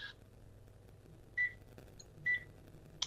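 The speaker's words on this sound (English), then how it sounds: "There's the phone again." A phone rings in repeated short electronic tones, two clear bursts spaced about a second apart, heard alone over a low background hum in a quiet room.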